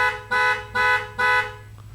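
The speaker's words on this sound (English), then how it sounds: "if you lock the door, it honks" An American car's horn, triggered by locking the door with the key fob, sounds three short, evenly spaced honks close by, with no talking over them.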